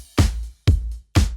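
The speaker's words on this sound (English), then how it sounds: "my drums with no plugins on the drum bus sound like this." Three hits of an unprocessed drum kit with no plugins on the drum bus, punchy kick-and-snare style strikes spaced evenly about half a second apart, each decaying quickly into near silence.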